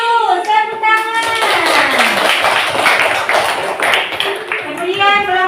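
A classroom of students claps hands together for several seconds, a dense patter of claps rising and then fading, with children's voices and tonal sounds heard at the start and end.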